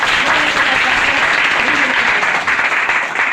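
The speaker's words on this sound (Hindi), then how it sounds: "हम सबसे पहले जोरदार तालियों के साथ" Loud, dense audience applause welcoming a guest at a community program on girls' education in Hilsa, a continuous wash of many hands clapping with a few voices faintly underneath.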